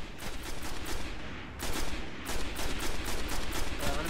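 Rapid bursts of gunfire from a gun in the sci-fi shooter Destiny, loud repeated shots in quick volleys with a brief pause midway, close and dominant.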